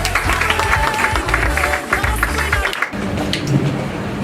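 Graduation crowd clapping steadily in a dense, noisy wash. It drops briefly near the end, then continues more quietly.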